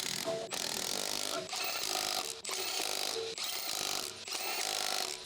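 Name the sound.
lowering a car jack under Ford truck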